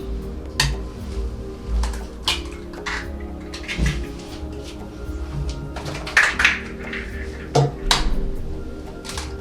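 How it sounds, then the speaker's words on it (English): Eggs being broken in a kitchen while making chips mayai, with a few clinks and knocks of shell against dishes and utensils over a steady background hum. "Then break the eggs."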